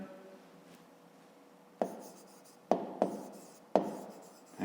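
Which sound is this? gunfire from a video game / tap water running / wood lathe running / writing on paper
writing on paper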